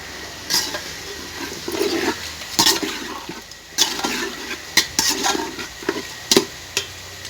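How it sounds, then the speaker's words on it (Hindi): Chicken pieces frying in a pot for Punjabi chicken yakhni pulao, an intermittent sizzle punctuated by repeated bursts of stirring and scraping against the pot. "तो अभी मैं चिकन भी इसमें डालने लगा हूँ ताकि जो है ना गोश्त को हल्का हल्का फ्राई करना"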